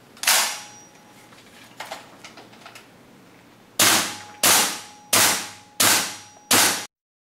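Gas blowback airsoft pistol on green gas with a new WE magazine firing .2 BBs: a loud close shot, a few faint clicks, then four sharp cracks about 0.7 seconds apart before abrupt silence.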